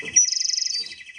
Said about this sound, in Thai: เสียงนก